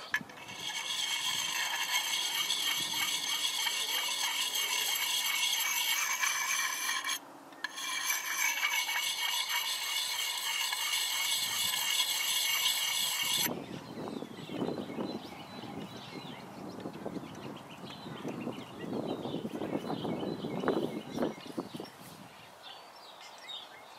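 Steady rasping strokes of a sharpener working an axe edge, a continuous close scraping for several seconds with a brief pause, then a rougher, irregular grinding in a lower register for the rest.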